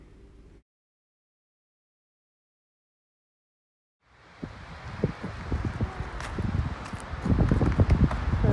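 Strong gusty wind at Sherd Lake in the Bighorn Mountains, roaring and buffeting the microphone with rising loudness after a brief near-silent stretch at the start.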